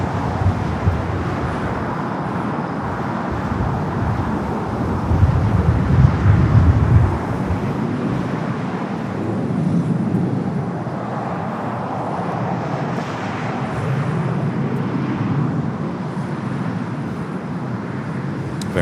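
A Boeing 767-400ER airliner bound for JFK moves at LAX with a broad, rumbling jet roar that swells and eases slowly, heard at a distance under wind and road noise.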